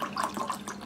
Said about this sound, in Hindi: इसमें आप डालेंगे पानी